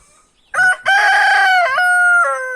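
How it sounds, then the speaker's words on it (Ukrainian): A rooster crows once, close and loud, a long bright cock-a-doodle-doo with a drawn-out ending, preceded by a brief quiet. "А як гарно півник кукарикає, правда?"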